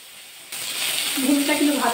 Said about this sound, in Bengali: এই তেলের মধ্যে ভেন্ডিগুলো দিয়ে ভাজা করে নেব।